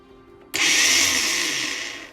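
A repaired Ryobi R18AG cordless angle grinder switches on abruptly after a brief quiet moment, spinning up to a loud high whine that holds steady and slowly fades as it winds down.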